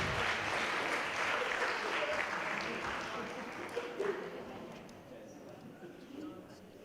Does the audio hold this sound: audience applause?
yes